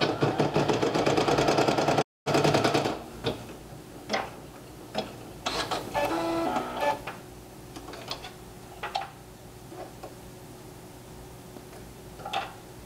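A single-needle embroidery machine stitching step three of a two-fabric, four-color applique design, giving a rapid ticking run that stops, followed by scattered clicks and short mechanical bursts.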